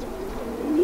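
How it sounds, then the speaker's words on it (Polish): A single low, soft young pigeon's coo rises near the end over a steady background murmur, close and moderately loud. "Piękny gołąb, bardzo ładny, młody, kapitalnie złożony też."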